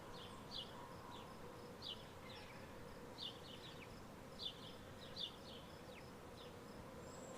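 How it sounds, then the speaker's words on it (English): Bees buzz around a hive outdoors in a faint, steady drone, with brief higher chirping sounds recurring every second or so. "This is where the bees are over here, a few eating."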